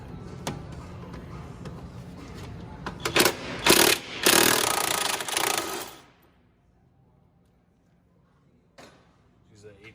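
Impact wrench hammering loose a suspension bolt on a Cadillac CTS-V, giving a loud burst of rapid rattling for about three seconds that then cuts off to near silence, with a brief tool blip near the end.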